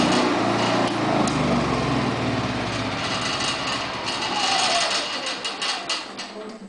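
A Yamaha EF3000iS generator fitted with an automatic choke actuator runs steadily inside an enclosed building, its small engine giving a constant loud drone with a high whine that fades slightly near the end.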